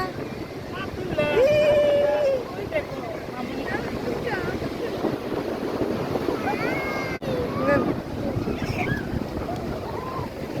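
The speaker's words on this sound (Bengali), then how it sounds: "এই যে আবার ঢেউটা আসতেছে, পুরো আমার শরীরটা ভিজা দিল" Surf breaks and washes up the beach at Cox's Bazar on the Bay of Bengal under a low-pressure system, a steady broad roar mixed with gusting wind on the microphone while people talk and call out nearby.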